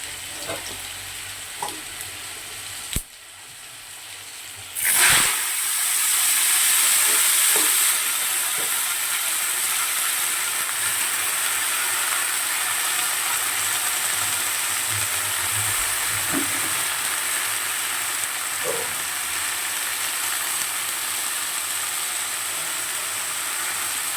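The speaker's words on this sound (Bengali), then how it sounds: "এদিকে শুকনো লঙ্কা ফোড়নে দিলাম, কালো জিরে ফোড়নে দিলাম" Dried red chilies and black cumin hit hot oil with a sudden loud sizzle, settling into a steady, close frying hiss that continues to the end.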